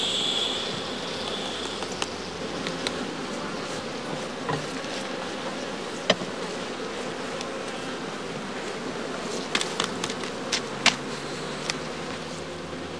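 Honey bees clustered on combs in a straw skep, a faint continuous low buzzing hum with occasional soft clicks and taps from nearby handling.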